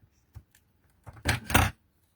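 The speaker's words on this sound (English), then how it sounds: "And I'm going to use my scissors just to snip this here." Scissors snip through red liner tape during wedding invitation card making, two quick, close cutting sounds in quick succession against near silence.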